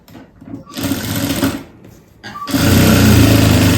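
Sewing machine stitching tucks on a blouse, loud and close, running in two bursts with a brief pause between, the second run steady and sustained.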